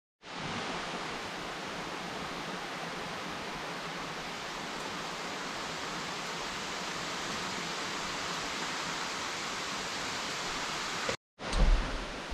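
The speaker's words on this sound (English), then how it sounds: "It's just raining too hard." Heavy rain pours steadily outdoors at an off-grid site, a dense, even hiss that holds without a break before a brief dropout and a muffled bump near the end.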